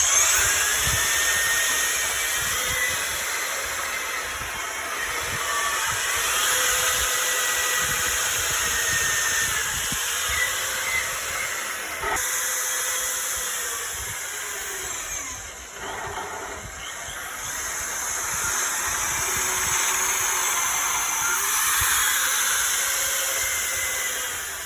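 Power drill boring a door with a cross drilling jig, a steady high-pitched whine that runs continuously with slight dips in speed, close and fairly loud with no talk.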